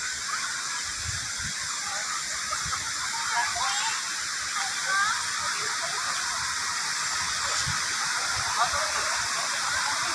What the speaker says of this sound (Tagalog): Ayan, yung falls.